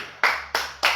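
Three sharp, close claps in an even rhythm, struck by people in a living room at the end of an indoor running workout. No one talks.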